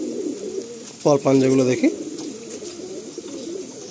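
Madrasi pigeons coo in a short burst of low, throaty calls, with someone talking over and around them.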